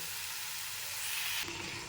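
Water spinach stems fry in a pan with turmeric and salt over a low flame, giving a steady close sizzle with a soft hiss. A brief stirring shuffle near the end shifts the texture.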